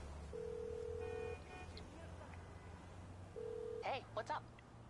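A phone call is dialed in GTA 5 Online: a sustained tone plays, pauses, then sounds again, ending with a few quick chirpy in-game blips and a brief voice.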